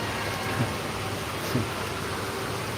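Steady, dense hiss of heavy rain falling continuously in New Delhi, India, even and unbroken, with faint low rumbles underneath.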